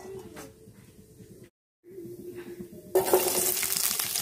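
Fennel seeds hit hot oil in a kadai. After a quiet stretch and a brief silence, a sharp, loud crackling sizzle bursts up close and keeps going for the final second or so.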